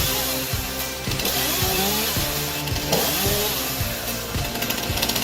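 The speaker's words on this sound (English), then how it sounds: "this device combines a standard chainsaw with a stabilizing system and an automatic throttle mechanism" A standard chainsaw fitted with a stabilizing system and automatic throttle cuts into a large tree, its engine revving and bogging in repeated surges, loud and close throughout.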